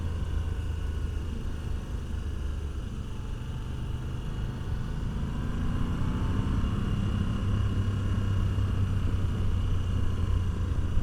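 A Moto Guzzi V85TT adventure motorcycle rides along gravel roads, producing a steady, loud engine drone and wind rumble that builds slightly over the stretch, with no talking.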